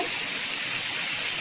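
Onions sizzling as they sauté in a pan with grilled calamari, a steady dense frying hiss that holds evenly throughout, close and unbroken, with no talking.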